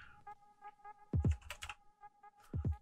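Keys clack on a computer keyboard while a word is entered into a game engine editor, a few close, crisp strokes in quick bursts with short pauses between them.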